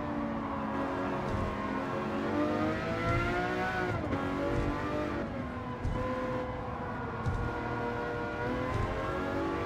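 Race car in Gran Turismo 7, a Lamborghini Murcielago LP 640 on a Tokyo circuit, its engine note rising and falling steadily as it approaches fast and brakes, loud and continuous throughout.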